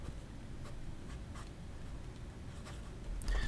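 Aurora fountain pen with a flex nib scratching across paper, a close, soft continuous scraping with faint strokes, heard alone.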